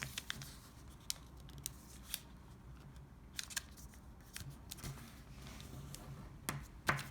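Quiet, close papery crinkles and soft crisp snaps as a sheet is folded along its creases into a pentagon-based origami bowl, with scattered light clicks over a faint hiss.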